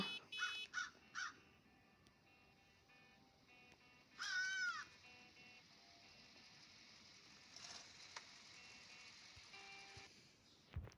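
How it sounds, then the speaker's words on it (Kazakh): A few short caws from a crow in the video game Hello Neighbor, Act 3, near the start, then a longer cawing burst, over quiet mechanical clicks and a faint electronic hum. "Қарға."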